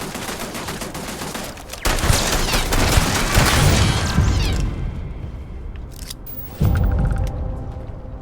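A gun turret in Starfield fires in loud, sustained bursts of rapid shots. One long volley fades out, then a fresh burst starts near the end.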